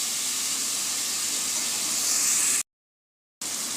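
Onion and tomato sizzling in a pan while being sautéed for vegetable pulao, a loud continuous hiss that briefly cuts to silence and then resumes.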